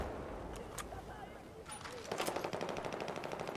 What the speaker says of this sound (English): I love this sniper rifle.